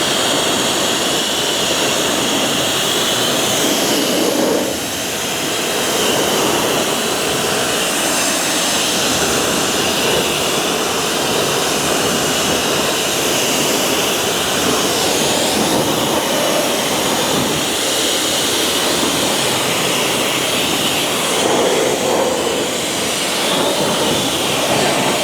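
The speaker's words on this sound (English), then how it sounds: "we're gonna let this soak for a couple minutes and we're gonna rinse it" A pressurized water spray rinses the wheels of a Volvo car, a loud, steady broadband hiss and roar that holds nearly unbroken throughout with only slight dips.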